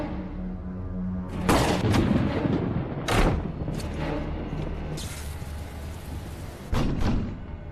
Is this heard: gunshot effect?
yes